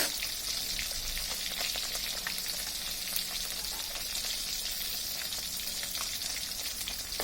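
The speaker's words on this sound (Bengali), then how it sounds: "কই মাছটা একটু ভালোভাবে ভেজে নিলে ভালো হয়, তাহলে ভেঙে যায় না রান্নার সময়।" Koi fish frying in oil in a pan gives a steady, close sizzle with fine crackling pops throughout, no voices.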